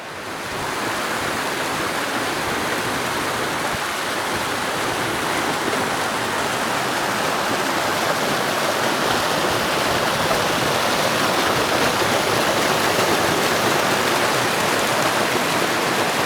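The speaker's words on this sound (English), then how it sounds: "The river Teifi down below." Steady rushing water of the River Teifi in Wales flowing below, a broad continuous roar without breaks, moderately loud and unchanging throughout.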